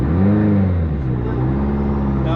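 A 517-whp VW Bug engine revs loud and close through a gear shift, the pitch climbing, dropping briefly, then building again with a steady mid-range drone.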